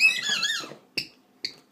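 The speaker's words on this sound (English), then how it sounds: "Get that squeaky toy." A Doberman's squeaky dog toy goes off with a long rising-and-falling squeal, followed after a pause by two short, sharp squeaks. The squeaks are close and clear, with no talk over them.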